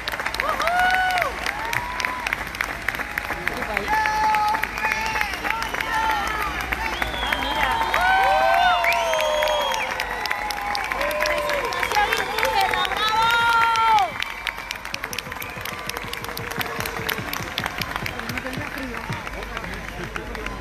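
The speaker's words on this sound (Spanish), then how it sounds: "Um aplauso para Sônia" A large outdoor crowd at a global climate march applauds and cheers as Sônia Guajajara takes the stage, with dense clapping, shouts and whistling voices, loud at first and easing slightly toward the end.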